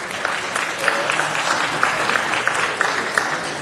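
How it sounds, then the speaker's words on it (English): Applause fills a city council meeting room, loud and close, a dense patter of many hands with a few sharper individual claps standing out, steady for the whole stretch with a faint murmur of voices beneath. "Un round of applause,"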